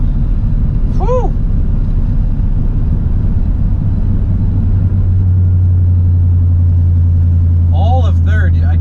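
An Infiniti G35 accelerating at full throttle through third gear, a loud sustained engine drone rising in pitch over the run with rumbling road noise, and faint short sounds near the start and end.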